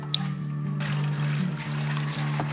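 Running water splashes and trickles steadily for a few seconds, with a low hum underneath, as scavenged leftover food is rinsed under a tap before frying.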